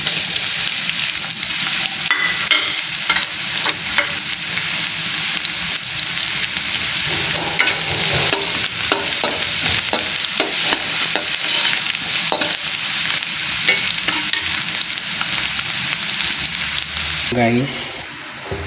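Garlic sautéing in a pan for pancit canton and bihon, a steady loud sizzle with frequent stirring scrapes running throughout, close up.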